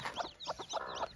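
Chicks at a family home during Holi give a few quick, soft clucks and peeps in short bursts, close by and fairly faint, with no talking over them.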